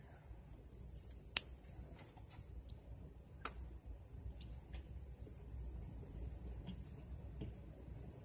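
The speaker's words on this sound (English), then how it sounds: "so then you snip that side" Small scissors snipping cotton wick for a vape coil, a few sharp close clicks spaced over several seconds against a quiet background.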